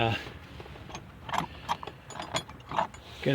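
A ratchet clicks in short, uneven bursts while working a Torx T30 bolt loose in a tight spot on an Oldsmobile Silhouette fuel system, close and moderately loud over low background noise, with no talking.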